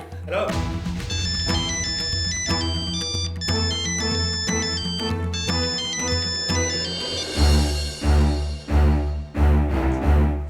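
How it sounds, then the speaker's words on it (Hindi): A mobile phone ringtone rings on and on unanswered, a bright repeating electronic melody playing loud and close for about ten seconds with dramatic background music. "निधि फोन क्यों नहीं उठा रही है?"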